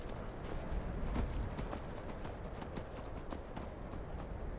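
Steady rhythmic clip-clop of horse hooves at a trot in the video game Skyrim, moderately close, continuing evenly with no voices.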